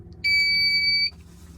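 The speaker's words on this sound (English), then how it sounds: "It gives you a little beep, then it gives you a reading of the voltage" An Ampeak 2000W pure sine wave inverter gives one clear, high electronic beep of just under a second when it is switched on. A quiet hum runs before and after the beep.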